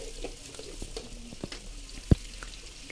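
Sliced shallots and garlic fry in hot oil with bay leaf, ginger and galangal, giving a soft continuous sizzle broken by a few stirring clicks and one sharp knock.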